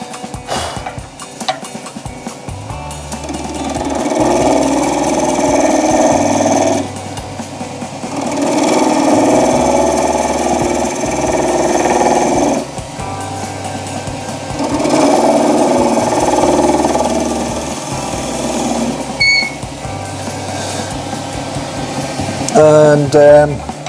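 Wood lathe turning an epoxy resin shaving brush handle with a spindle gouge, a steady mechanical whir swelling and easing as the tool cuts, with someone talking over it.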